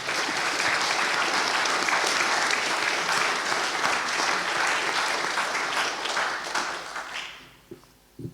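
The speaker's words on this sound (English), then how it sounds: "I'd just like us to give a round of applause" Sustained applause from an audience at a u3a annual general meeting, honouring committee members; steady dense clapping for about seven seconds, then fading out to a few scattered claps at the end.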